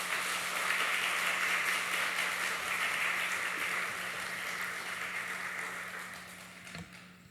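Congregation clapping during a Sunday church service to welcome the youth ministry leaders, teachers and students, a broad steady wash of applause that slowly fades toward the end, with a low hum underneath.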